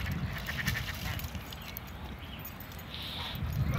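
Ducks quack and honk outdoors over steady wind-like background noise, their calls moderately close and recurring through the stretch.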